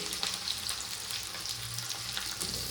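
Chopped onion hits a hot pan for a village-style mutton curry, producing a close, steady sizzle with bursts of crackle and light stirring throughout.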